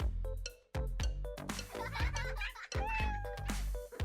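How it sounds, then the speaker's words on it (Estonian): A cat meows several times in a busy indoor scene, with music, laughter and clattering toys around it; the meows rise and fall in short bursts near the listener. "Mu kass."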